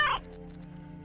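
A house cat in a co-op murder mystery video game gives one short, fairly loud meow at the start, followed by quiet, soft background tones.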